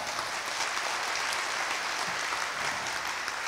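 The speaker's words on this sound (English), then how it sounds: "that's right, you can applaud that" An audience applauds at an awards ceremony, the steady, dense clapping filling the room at an even level throughout with no voices over it.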